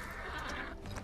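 Horse in the farming-life game My Time at Sandrock giving a short, faint whinny, a single brief neigh over quiet game ambience with no talk.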